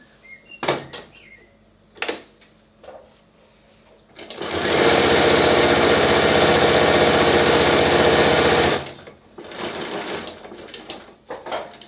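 A sewing machine stitches a fabric face mask. A few clicks and taps come first, then one long, steady, loud run of stitching for about four seconds, followed by quieter handling sounds.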